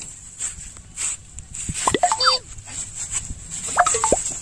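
Puppy whimpering in a few thin, rising high-pitched cries, with soft rustling and faint thumps around them, fairly close and otherwise quiet.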